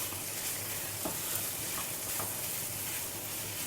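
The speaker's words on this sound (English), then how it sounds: "Saute everything together for a few minutes, then allow it to cool." Grated coconut and temple-style chutney ingredients, cooked without onion or garlic, sauté in a pan with a soft, steady sizzle and a few faint stirring scrapes throughout.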